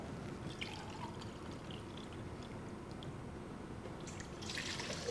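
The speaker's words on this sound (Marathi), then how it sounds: "प्रगतीताई आपल्याला ह्याच्यात पाणी घेऊन देण्यात." Water being poured into a vessel to measure out eight glasses for a children's drink recipe, a continuous soft trickling and splashing close by, growing slightly louder and brighter toward the end.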